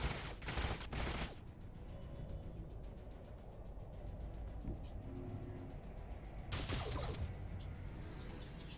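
Gunfire in the sci-fi strategy game Age of Wonders Planetfall: two sharp bursts of rapid shots at the start, then a quieter stretch of mechanical rumble before another loud burst near the end.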